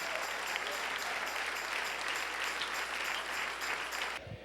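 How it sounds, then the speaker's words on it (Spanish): Church congregation applauding during a Spanish-language Sunday morning service, a dense steady wash of clapping that cuts off abruptly near the end. "Dale un aplauso al Rey en esta hermosa mañana."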